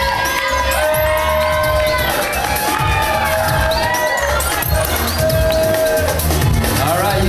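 A crowd cheers and screams loudly during a cotton ball party game, shrill children's and adults' shouts rising and falling in bursts over steady rhythmic thumping.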